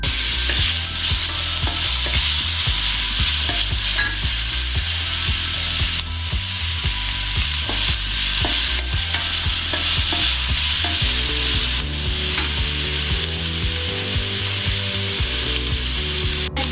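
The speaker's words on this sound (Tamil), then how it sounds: "நல்லா ப்ரௌனிஷ் ஆகணும் அது வரைக்கும் நல்லா வதக்கி விட்டுக்கோங்க" Fish roe sautéing in a pan for an Indian-style fish egg dish, cooked until browned: a steady, dense sizzle fills the whole stretch, broken by frequent scraping and clacking stirs, close and loud, with no voices.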